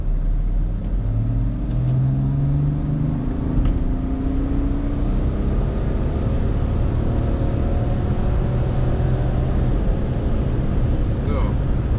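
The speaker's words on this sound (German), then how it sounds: "Unter 2000 Umdrehungen, dann Gas." A BMW X3 F25 35d with its N57 diesel engine, fitted with a Pipercross sport air filter, accelerates from below 2000 rpm. A steady low rumble builds with rising engine tones early on, then holds as a constant drone for the rest of the clip.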